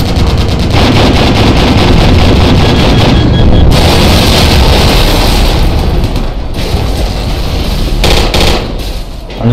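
Explosive booms and heavy gunfire roar through a battle in the military video game Project Reality, loud and nearly continuous for the whole stretch, with wind-like rumble and no clear voices.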